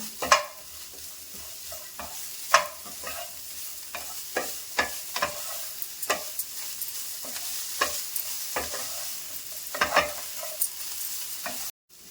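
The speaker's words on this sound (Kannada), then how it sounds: "ಇದನ್ನು ಫೈವ್ ಮಿನಿಟ್ಸ್ ಫ್ರೈ ಮಾಡ್ಕೊಳ್ಳೋಣ" Broccoli frying with pepper powder in a pan, stirred with regular scraping strokes of a spatula over a constant soft sizzle, close and fairly quiet, with no talk.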